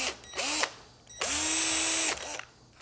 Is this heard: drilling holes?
yes